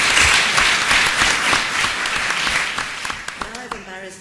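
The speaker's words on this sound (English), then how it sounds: "I would like to make a round of applause for Erik, because he is very special." An audience at a welcome session gives a round of applause for a person, dense clapping from many hands that fades over a few seconds and ends with scattered claps and a voice.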